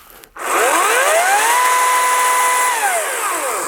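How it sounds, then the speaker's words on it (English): A chainsaw revs up hard, holds a steady high whine for a few seconds, then winds down, loud and close while cutting into a large cardboard shipping box. "See if I can cut this open with a chainsaw."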